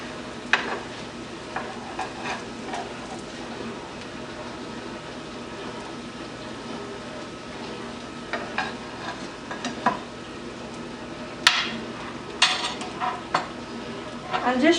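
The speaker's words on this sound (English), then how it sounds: "I'll turn the stove off and carefully remove the cutlet and place it in the serving dish." Aloo brinjal cutlets of potato and eggplant lifted from a pan onto a serving dish: soft scraping and occasional metal clinks of utensil on pan over a faint, steady sizzle, fairly close, with intermittent louder taps.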